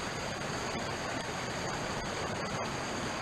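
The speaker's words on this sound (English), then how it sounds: "Stream is not too far away, that's pretty good." A nearby mountain stream beside a backpacking camp near Sandbeach Lake in Rocky Mountain National Park rushes in a steady, continuous wash of water, broadband and unbroken, with no voices.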